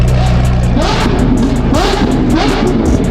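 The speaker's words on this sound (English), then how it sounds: "That V12 sounds crazy." A V12 car engine revs hard at a car event, loud, close and rising in repeated surges of pitch, with a rough low idle underneath and a throaty roar filling the clip.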